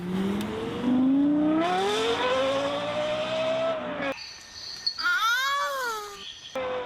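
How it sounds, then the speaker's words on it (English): A Lexus LFA V10, its engine sound tuned by Yamaha, revs loudly and rises steadily in pitch through a long climb, then gives a second sharp rev that swoops up and falls back, heard close and alone. "The engine from the Lexus LFA was musically tuned by Yamaha."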